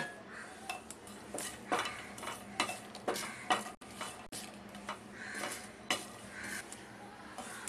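Whole garam masala spices such as star anise, cloves, cardamom and fennel dry roasting in a pan over medium heat, with quiet clinks and scrapes of a spoon stirring against metal at irregular intervals.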